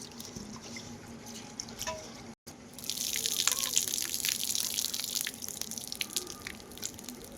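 Rice is swished and rinsed in water, first as faint drips, then a close, continuous splashing and sloshing that carries on after a brief break.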